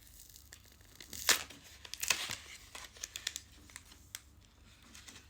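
A Pokémon Shaymin booster blister pack is torn and crinkled open by hand, with soft crackling plastic, several sharp tearing bursts and scattered small rustles, quiet and close.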